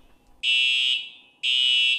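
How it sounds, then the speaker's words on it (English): A fire alarm gives two loud, steady electronic tones, each lasting about half a second, separated by a short gap. No other sound is heard. "what you should do if a fire alarm sounds during a lockdown"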